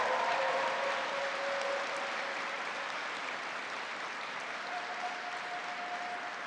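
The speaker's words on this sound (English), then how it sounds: "Big round of applause for them." Sustained audience applause fills a bill signing for New York's Clean Slate Bill, dense clapping throughout that eases slightly after the first second and carries on steadily to the end.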